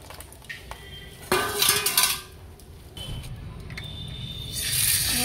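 Kitchen prep of sea crab and bottle gourd, with dishes, pans and utensils clattering and scraping close by, a louder burst of clinking midway and steady handling noise throughout.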